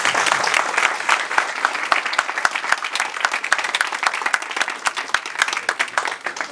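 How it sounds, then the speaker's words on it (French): Audience at a charity gala dinner on the Champs-Élysées applauding, dense sustained clapping from many hands, fairly close and lively, with no voices over it. "vous applaudir."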